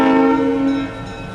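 ALCO diesel locomotive 514 runs at a National Historic Site, heard as a steady loud tonal engine drone with a strong harmonic hum that eases slightly near the end.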